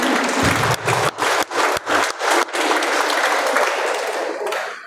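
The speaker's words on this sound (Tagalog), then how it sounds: "Sir Raji Montes upang bigyan po natin siya ng sigawan palakpakan." A seminar audience for a vendors' business school applauds to welcome a speaker: a burst of crowd clapping in uneven waves that gradually thins and fades after a few seconds.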